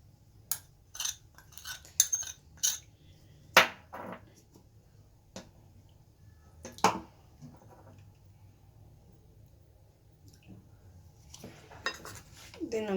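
Potatoes tossed with turmeric, black pepper and salt for homemade crispy potato chips, heard as scattered clinks and scrapes of a utensil against a bowl, some sharp and close, separated by quiet gaps.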